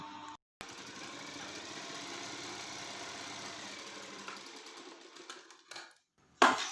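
A sewing machine runs in a steady whirring stitch across shirt fabric, with a continuous mechanical hum broken by brief pauses and a sharper click near the end, no talking.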